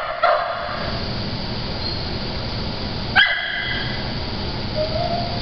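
At an animal shelter a dog, a year-old 58-pound male, gives a couple of sharp barks, one at the start and another midway, over a constant background hum of the kennel, with a faint whine near the end.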